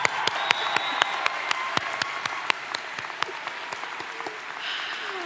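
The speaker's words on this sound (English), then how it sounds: "That deserves a round of applause." An audience claps steadily in sharp, evenly spaced beats at a graduation ceremony, moderately close and holding a regular rhythm throughout.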